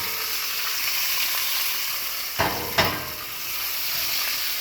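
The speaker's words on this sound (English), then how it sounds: "You hear that sizzle?" A ribeye steak sizzles in a cast iron pan on the stovetop, a steady close hiss throughout with a couple of brief louder crackles near the middle.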